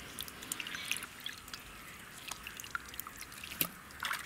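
Water drips and trickles off a freshly washed sura fish as it is squeezed dry in a village kitchen, a faint scattered patter of small drops with no talking.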